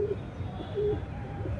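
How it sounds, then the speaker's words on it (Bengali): Female pigeons in a loft give soft, low coos, three short rolling calls spaced evenly about every three-quarters of a second, close but quiet over a faint background murmur. "মাদি পায়রা, এটা খুব ভালো কোয়ালিটি পায়রা"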